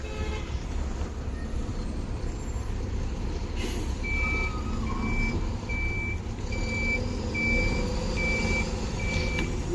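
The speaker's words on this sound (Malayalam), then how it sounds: "അപ്പം നമ്മുടെ വണ്ടി ഇതാ ലോഡ് കെട്ടാൻ വേണ്ടി വെക്കുകയാണ്." Reversing beeps from a truck on the NH66 highway works, a steady evenly spaced series of about seven tones from mid-clip on, over continuous engine rumble and site noise as it backs in to unload its load.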